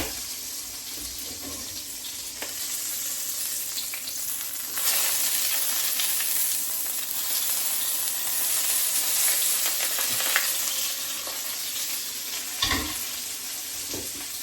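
Steak frying in a pan, a steady close sizzle running throughout with a few brief clinks and scrapes and small swells in intensity.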